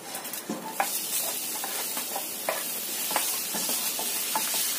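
Ginger and scallion stalks sautéing in a pan give a soft, steady sizzle, with scattered light scrapes and taps from a spatula stirring them.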